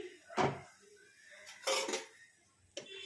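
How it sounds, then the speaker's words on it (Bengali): A metal lid lifts off a pan on low heat, giving three separated clattering clinks of metal on metal with quiet pauses between, close and fairly soft. "এবার ঢাকনা খুলছি"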